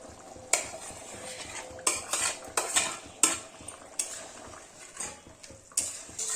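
Fried paneer pieces going into a thick potato and pea gravy, stirred with a spoon that clinks sharply against the pan every second or so over a low background simmer; no talking.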